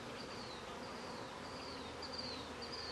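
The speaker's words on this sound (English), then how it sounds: "a lot of numbers of bees here" Dense, steady buzzing of a large number of honeybees crowding around a hive, with a few brief higher-pitched whines from individual bees passing close by.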